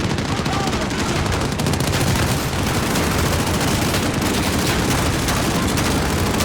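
Dense, loud Call of Duty: Modern Warfare (2019) gunfire during a house-clearing mission, with continuous automatic bursts and overlapping shots packed tightly throughout.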